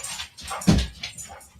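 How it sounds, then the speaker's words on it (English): A dog in a sawmill setting, giving a short whimpering yelp with a louder bark-like burst in the middle, fairly close, amid shuffling background noise and no speech. "It's the dog."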